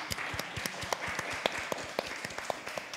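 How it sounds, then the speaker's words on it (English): An audience applauding at a televised film event, a light, steady patter of many hands clapping that continues evenly for about three seconds. "I think we need to clap for that because it's amazing"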